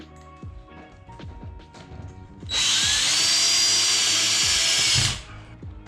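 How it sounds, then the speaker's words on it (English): A power drill drives a screw into a drywall patch, spinning up in one loud continuous whine for about two and a half seconds, preceded by light knocking and handling of the board and tool up close. "So I'm gonna screw this in using something like this where it keeps the screw from going in too far and damaging the drywall"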